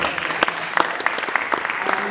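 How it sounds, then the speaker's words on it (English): Audience applause at an international vaccination workshop opening, steady scattered clapping at moderate distance, with a voice faintly mixed in. "I think she deserves a round of applause"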